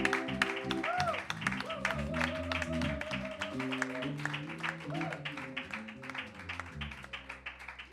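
A church congregation claps and acclaims the Lord during a worship service, with steady, dense clapping running under music and voices throughout.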